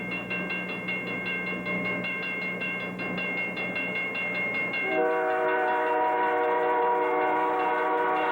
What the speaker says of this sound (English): as we watch train number 211 with engine 1808 go by